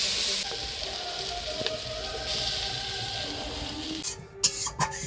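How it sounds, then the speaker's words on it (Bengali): Chicken greens curry (chicken shak chorchori) sizzling in oil in a pan while being stirred, a steady close frying hiss with a few clinks of the spoon near the end. "একটু তেল দিয়ে ভালো করে নাড়িয়ে নামিয়ে নিব"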